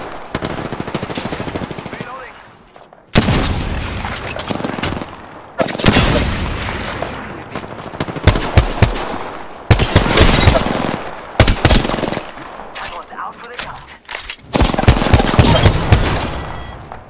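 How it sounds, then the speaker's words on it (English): Loud, close bursts of automatic gunfire from the video game Apex Legends. Rapid volleys repeat in several separate bursts with short gaps between them. "45 seconds and they're shooting at me."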